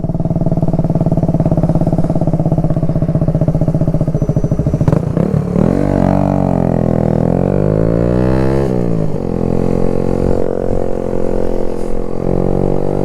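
A motorcycle engine with a badly adjusted clutch runs loud and close, a steady rough idle that rises and falls through a couple of revs midway, with clattering mechanical noise throughout.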